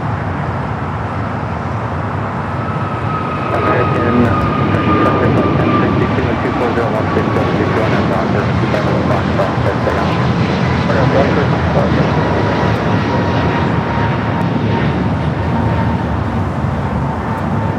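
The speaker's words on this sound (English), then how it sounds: "Up next, American flight 238 heading to JFK, A321 Neo XLR." American Airlines Airbus A321neo XLR jet heading to JFK from Los Angeles airport, a loud continuous engine roar with a slowly falling whine, steady throughout with voices talking over it.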